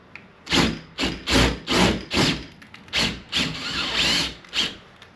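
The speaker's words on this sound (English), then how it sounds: "Now I'm just gonna drill a hole through using the existing hole that's there." A drill bores through a wooden front door at an existing hole, producing about ten rhythmic grinding bursts in close succession, loud and near, with no talking.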